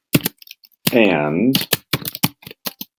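Bursts of typing on a computer keyboard during Arduino serial monitor coding, quick uneven key clicks in short runs mixed with someone speaking nearby.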